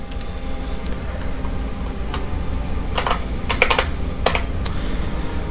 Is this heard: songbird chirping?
no